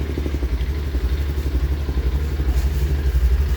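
A Honda Activa 125 scooter engine with a squealing transmission idles steadily with a low, pulsing putter and a faint rattling clatter, close by and continuous.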